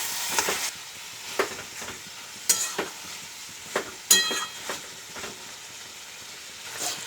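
Chicken kosha is stirred in a pan. Low frying sizzle runs underneath while a handful of separate scraping, knocking strokes of the spoon come through clearly at irregular intervals.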